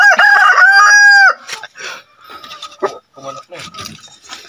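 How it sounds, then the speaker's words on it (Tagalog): A rooster crows loudly up close, followed by scattered clucking from several large breeder chickens. "Ang daming manok, malalaki."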